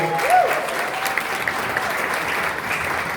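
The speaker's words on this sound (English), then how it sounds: "I want to say a round of applause for Casapreco" Audience applause at a sponsored creator event, a dense steady patter of many hands clapping throughout, fairly close and continuous, with a faint tonal whistle near the start.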